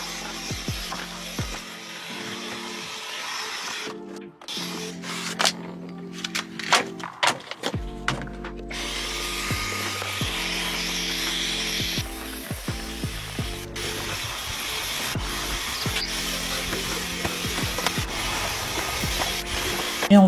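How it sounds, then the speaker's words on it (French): Vacuum cleaner with a long narrow nozzle working around a car interior, a steady drone with repeated clicking, scraping and rattling as the nozzle is pushed into tight corners, close and continuous with no talking. "je commence avec la longue tête qui me sert d'abord d'aspirer tous les petits coins qu'on ne peut pas trop atteindre avec l'embout normal"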